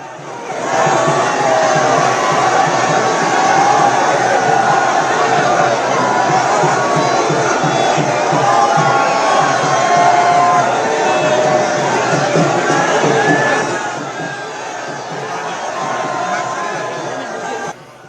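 A dense crowd of thousands of devotees fills the Radha Rani temple during Holi celebrations, a loud, unbroken roar of chatter, shouts and cheers that eases slightly near the end.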